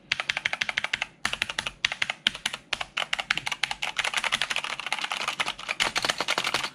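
Rapid typing on a Corsair K95 mechanical keyboard fitted with PBT keycaps: dense, close, crisp clacks in quick bursts with brief pauses, no voices.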